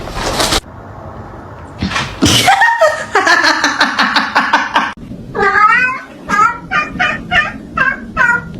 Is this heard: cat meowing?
yes